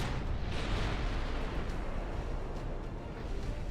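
Torpedo strikes on warships in the naval game Ultimate Admiral Dreadnoughts: a sustained, loud, rumbling roar of explosions and churning water that fills the whole stretch with no talk over it.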